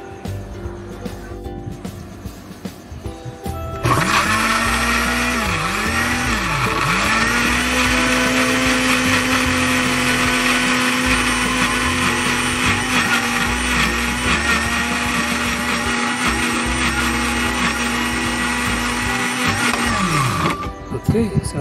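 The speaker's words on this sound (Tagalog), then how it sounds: "Siya yung liquid, magsisilbing liquid natin para ma-blender po natin" After brief talking, a kitchen blender whirs loudly for about sixteen seconds, blending ingredients with fish sauce (patis) as the liquid. Its motor pitch dips a few times early, then holds a steady high whine before winding down.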